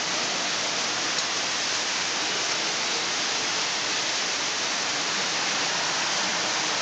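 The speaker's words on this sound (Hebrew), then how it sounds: "הנה יש גשם עכשיו" Rain pours just after a hailstorm in Israel, a dense, loud, steady hiss that continues unchanged with no talking.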